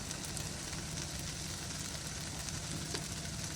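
Coriander powder frying in hot oil for a prawn curry, a soft, steady sizzle with a faint crackle throughout, fairly quiet and with no voices.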